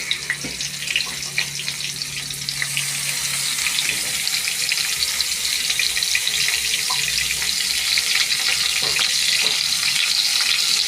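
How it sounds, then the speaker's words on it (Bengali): Koi fish frying in hot oil give a dense, crackling sizzle that swells after a couple of seconds and then holds steady and close for the rest of the clip. "একটা একটা করে মাছগুলো ভালো করে ভেজে নেব"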